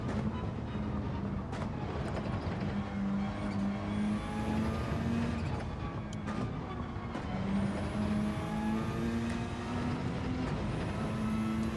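Peugeot RCZ race car in Gran Turismo 7 during a Nations Cup online race, its engine a steady droning tone that rises and falls through gear changes, with faint other cars around it.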